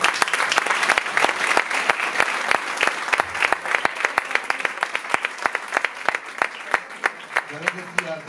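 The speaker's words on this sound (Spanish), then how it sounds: "Un aplauso para Ana." An audience applauds a local singer at a Spanish tribute event. The claps are close and distinct, building into a lively rhythm, and run for about eight seconds. A few murmured voices come through faintly underneath near the end.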